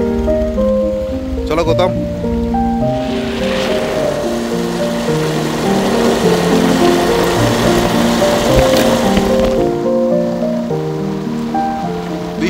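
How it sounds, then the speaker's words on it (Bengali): Rain falls steadily during a trek to Santhalabari in North Bengal, a broad hiss that swells in the middle and sits under continuous music, with a brief spoken call near the start. "বৃষ্টি এখনো হচ্ছে"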